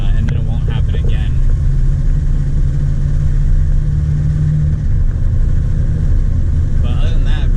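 A 1975 Chevy C10 truck is being driven, with a loud, steady low engine rumble and road drone from inside the cab. Voices break in briefly over the continuous engine noise near the start and end.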